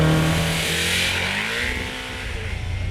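A motorcycle engine revs up and accelerates at the start of an emergency braking test, its rising tone loud and close with wind rush over the top.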